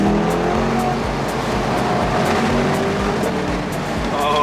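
A 2021 C8 Corvette Convertible with its LT2 engine downshifting and accelerating on a Hawaii mountain road, a loud, steady, close engine roar with dense rumbling throughout and no talking.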